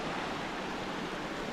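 A waterfall at Yellowstone pours in a steady, dense broadband rush with no breaks, heard at moderate level and alone.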